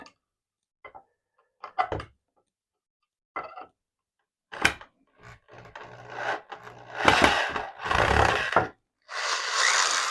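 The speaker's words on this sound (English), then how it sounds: "Then we'll unscrew this piece right here, the support piece." Unscrewing a wooden support piece from a model railroad layout during demolition: scattered short creaks and scrapes of screws backing out of wood, growing into longer close rasping passes toward the end.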